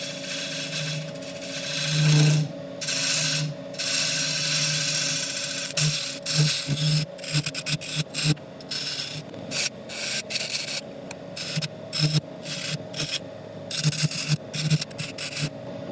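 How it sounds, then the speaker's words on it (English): Diamond-shaped carbide bit in a rotary tool cutting a metallic Milliput epoxy inlay set in wood, a steady high whine with grinding rasp, later broken into short stop-start cutting bursts. "I'm going to be cutting the inlay with the diamond-shaped carbide"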